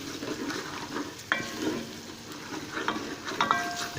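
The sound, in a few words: spices frying in a pan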